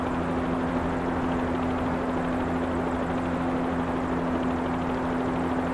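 A payware helicopter in a flight simulator game drones steadily with a constant rotor and turbine hum and a strong low tonal whine, unbroken and close throughout.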